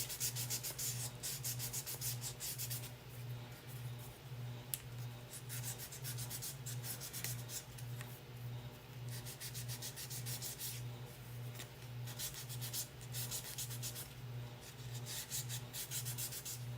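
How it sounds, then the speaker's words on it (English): Wood being sanded by hand: soft, steady rubbing strokes in an even back-and-forth rhythm, close but quiet over a low constant hum. "And you can hardly see where I sanded because I'm using wood"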